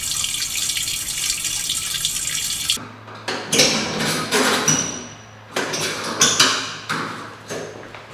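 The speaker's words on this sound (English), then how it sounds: "I'm just going to drain out as much as I can and dump it down the drain." Drained water from an old house's boiler system is dumped down a drain in repeated pours, each a loud splashing gush separated by brief pauses and clanks, no talking.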